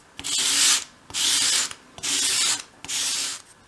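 Sandpaper rubbed by hand along the bevel of a small wooden 1/12 scale dollhouse bedside cabinet piece, four steady rasping strokes in an even rhythm with brief pauses between, close and clear.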